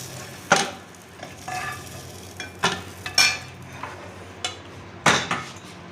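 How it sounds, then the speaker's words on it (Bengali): Fried eggs for an egg curry sizzle in a pan of oil while a utensil lifts them out, a low frying hiss broken by several sharp metallic clinks and scrapes against the pan. "দেখুন বানানো ভাজা হয়ে গেছে"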